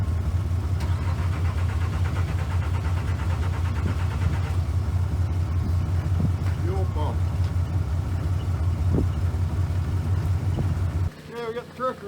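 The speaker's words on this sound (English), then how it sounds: "We got the truck running." A truck engine runs at a steady low idle throughout, with a strong rumbling pulse, then cuts off near the end; faint talk is heard in the background.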